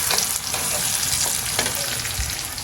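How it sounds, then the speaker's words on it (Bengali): Fish cooks in mustard oil in a pan, with a loud, steady, close sizzle and spatter that holds evenly from start to finish. "রান্না বসাই দিলাম এটা মাছ রান্না করবে সরিষার তেল দিয়ে"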